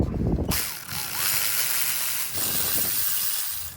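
Ratchet wrench clicking while loosening intake plenum bolts on a Ford F150 5.0, with quick close bursts of pawl clicks in short runs and some hiss from handling in a garage.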